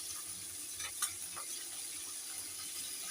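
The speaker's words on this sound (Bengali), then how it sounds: "এখন আমার মাছ ভাজা চলছে" A hilsa fish head frying in oil in a pan sizzles with a steady, quiet hiss, broken by a few soft scrapes and stirring clicks, with no talking.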